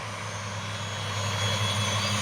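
HobbyZone Champ UMX Anniversary Edition RC plane's small electric motor droning steadily in flight, a continuous buzzing hum that grows slightly louder partway through, with no talking.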